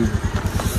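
A motorcycle engine idles close by as the bike is brought out, a quick rhythmic low putter over a brief moment.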